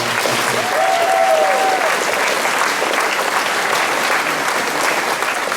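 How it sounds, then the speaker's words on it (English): An audience at a track and field awards ceremony breaks into loud, sustained applause, dense clapping filling the room throughout with a faint murmur of the crowd beneath it. "If you could give her a round of applause."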